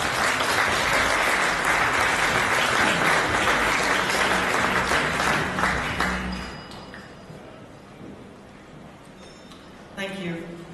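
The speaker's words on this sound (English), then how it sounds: "give a round of applause to Electrolux Group CEO for Europe and Asia" An audience applauds the Electrolux Group CEO for Europe and Asia at IFA in Berlin, dense steady clapping for about six seconds before fading to a low murmur, with a brief burst near the end.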